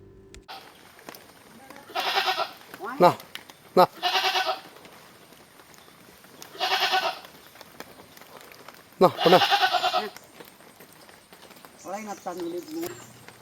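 Goats for sale at a farm in Alappuzha bleat repeatedly near the microphone, several separate wavering calls spread across the stretch, with people talking between them.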